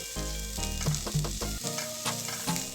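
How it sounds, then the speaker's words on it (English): Sliced onions frying in a pan for a Goan mushroom bhaji, with a steady close sizzle and repeated stirring scrapes and clatters of the spoon against the pan throughout. "Fry until the color of the onions turn light brown."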